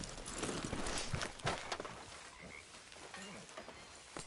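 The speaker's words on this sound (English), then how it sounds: "Get rid of that horse. Move it." A horse's hooves clop unevenly on the ground as it walks nearby, soft irregular knocks that fade in and out with a little background rustle.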